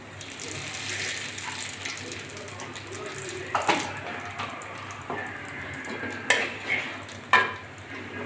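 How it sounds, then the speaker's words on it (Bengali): Radhuni seeds tempering in hot oil in a pan after frying dal bori, a steady close sizzle with a few sharp crackles and pops toward the end, with no talking. "এক চামচ রাঁধুনি আমি ফোড়ন দিয়ে দিচ্ছি"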